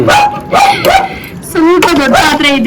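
A dog barks and yelps loudly and close by in an excited, almost continuous burst of whining barks.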